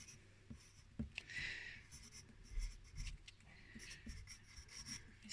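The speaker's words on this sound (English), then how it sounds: "I'm going to write my name here." Pencil scratching across paper while a name is written on a nature sketch, a faint, close, continuous rubbing with short strokes and taps, with no one speaking.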